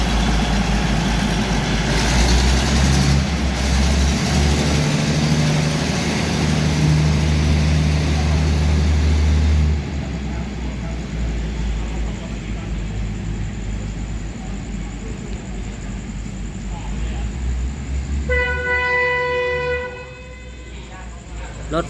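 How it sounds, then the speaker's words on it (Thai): A locomotive engine at Lopburi station at night rumbles loudly and steadily as it revs, its low drone shifting partway through, with a voice speaking over it and a brief high ringing near the end. "ฟังเสียงเร่งเครื่องกันนะครับ"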